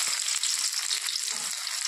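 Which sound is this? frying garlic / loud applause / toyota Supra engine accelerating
frying garlic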